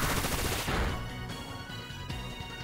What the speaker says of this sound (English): I'm actually just gonna Bullet Seed.